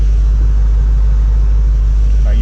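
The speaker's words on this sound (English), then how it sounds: "you probably heard the change in the exhaust" The exhaust of a 2010 Corvette ZR1 with its valves open idles as a loud, steady low rumble right beside the car, continuous with no revving.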